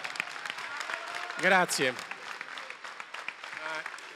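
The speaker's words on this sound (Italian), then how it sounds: "vi chiedo un grande applauso" Crowd applause for a mayoral candidate at an Italian campaign rally in Foligno, a steady wash of clapping under a voice speaking briefly.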